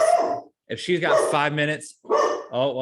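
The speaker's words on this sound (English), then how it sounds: "Got a dog barking. Nothing you can do about it." A pet dog barks indoors at home, sharp repeated barks overlapping a man's speech and clearly audible under the talking.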